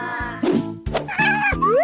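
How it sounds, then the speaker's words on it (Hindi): Cartoonish cat meows from a drawing video game, several short bright tonal calls in quick succession with a springy, bouncy character, loud and close with no talking. "अरे देखो कितनी प्यारी बिल्ली है।"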